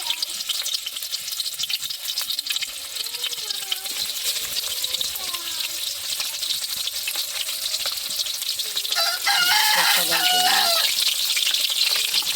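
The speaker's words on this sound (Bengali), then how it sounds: "এখন আমরা মাছগুলো লাল লাল করে ভেজে নেব সুন্দর করে" Rohu fish pieces, rubbed with salt and turmeric, fry steadily in hot oil with a constant dense sizzle and crackle, growing slightly louder near the end; a rooster crows faintly in the background.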